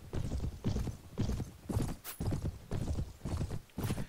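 Horse hooves clip-clop in a steady galloping rhythm in the Mount & Blade game, about eight heavy, close beats with a brief whinny partway through.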